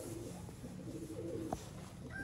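Master Abdullah strain pearl-eyed pigeons coo softly and steadily nearby, a low continuous murmur with a brief sharper note partway through.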